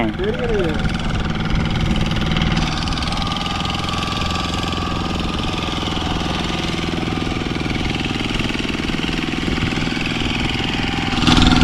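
A fishing boat's engine runs at sea off Kattumavadi, a loud, steady chugging drone close by that continues without a break, with voices faintly beneath it.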